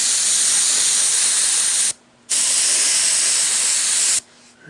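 Airbrush spraying thin coats onto 1/350 scale model parts, a steady loud hiss that runs for about two seconds, cuts off briefly, then sprays again for a similar stretch before stopping, with no talking.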